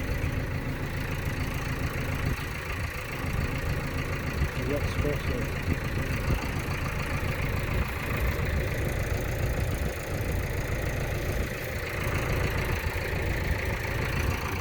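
A tractor engine idling steadily on a farm, a continuous low mechanical chug at moderate level, with faint background sounds and no clear changes in pace.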